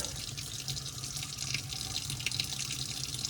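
Hot water runs steadily from a tap fed by an RV tankless water heater, a continuous bright splashing hiss with a low hum beneath, fairly close and alone without talk.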